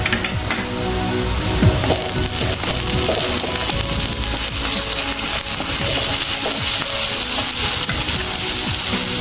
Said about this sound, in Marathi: कांदा व्यवस्थित परतून घ्यायचा आहे.